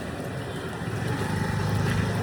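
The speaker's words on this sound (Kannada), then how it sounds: "ಸಿಕ್ಕಾಪಟ್ಟೆ ಗಾಳಿ, ಅಪ್ಪ ಸಿಕ್ಕಾಪಟ್ಟೆ ಗಾಳಿ ಇದೆ" Strong wind buffeting a microphone outdoors as rain approaches, a loud, continuous low rumble that swells slightly toward the end, with no voices.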